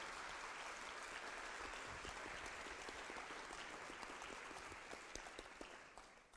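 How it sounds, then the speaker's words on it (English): Applause from an audience at a school district candidate forum, a dense steady patter of many hands clapping that carries on throughout and tapers slightly at the end. "I'd like to give a round of applause to all the candidates"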